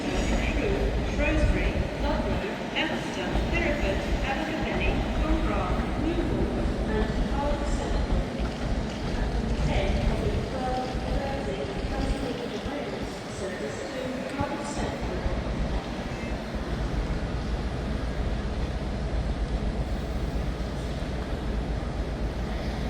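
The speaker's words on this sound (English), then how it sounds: "There's the celebratory Railway 200 Pendolino." A Railway 200 Pendolino train at Manchester Piccadilly station, a continuous low rumble and whine of rail traffic with station ambience, voices audible in the background throughout.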